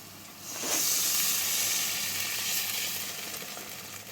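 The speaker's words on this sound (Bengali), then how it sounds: "এবার আমি পরিমাণ মতো জল দিয়ে দিলাম।" Water poured over sautéed spices and potatoes in a hot pan for a katla fish curry sets off a loud, rushing hiss of sizzle and steam that swells up and then holds steady.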